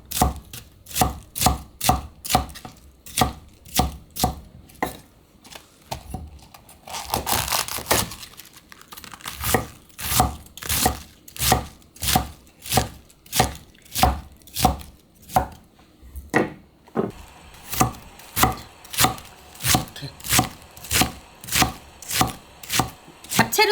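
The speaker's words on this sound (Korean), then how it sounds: "이래갖고 채를 썰 텐데 너무 곱게 써지 말고요" A knife chops cabbage into 0.5 cm strips for a cabbage japchae, with evenly spaced, crisp thuds on a cutting board and a short rustle and pause midway.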